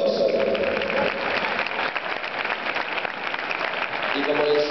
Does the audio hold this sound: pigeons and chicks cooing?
no